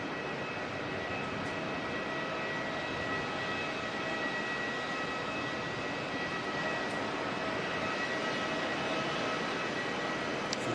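Air New Zealand A321neo airliner arriving from Sydney at Auckland Airport in crosswinds, a steady distant engine roar and broadband rumble holding evenly throughout, no voices.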